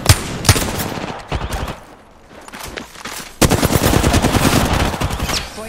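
Video game gunfire crackles in dense, rapid bursts, loud and close, with a short lull midway before a heavier sustained volley resumes.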